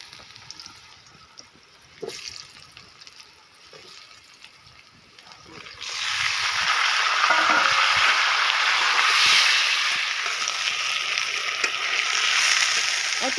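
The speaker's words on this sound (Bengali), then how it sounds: "ওই একই তেলে ঝিঙ্গে আলুটা ভেজে নেব।" Sliced ridge gourd and potato hit hot oil, left over from frying fish, and burst into a loud, steady sizzle that carries on after a few quieter clinks and scrapes.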